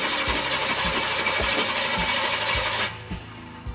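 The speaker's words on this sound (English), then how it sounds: "And let's give it a crank, and then we'll pump it as we're cranking it." An engine being cranked over while fuel is pumped, a loud rhythmic starter churn with regular chugging compression beats, which drops off near the end to quieter mechanical clunks.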